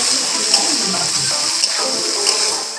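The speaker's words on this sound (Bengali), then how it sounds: "এবারে আমি বেগুনগুলো দিয়ে দিচ্ছি।" Eggplant pieces frying in hot oil in a pan make a loud, steady hissing sizzle with faint crackles, joined by a few soft clinks of a utensil at regular moments.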